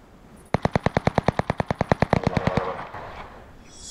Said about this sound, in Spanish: Ametralladora, cuidado.